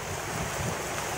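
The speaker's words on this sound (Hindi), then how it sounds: "ताजी बारिश तेज़ हो रही है।" Heavy rain pours steadily onto a wet road, a dense, even hiss of falling water that holds at a constant level throughout with no voices.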